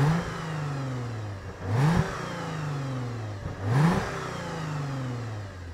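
A stationary Toyota Crown Athlete with a supercharged 3.5-litre V6 and aftermarket exhaust, miked at the tailpipe, revs twice from idle, each rev a short rising and falling surge over a steady low idle.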